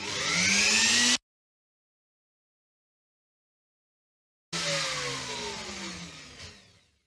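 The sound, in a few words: router cutting Telecaster guitar body control cavity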